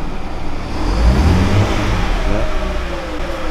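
A car engine revs up as the driver steps on the gas, a loud nearby surge that climbs in pitch and then holds a rising whine, with no talking.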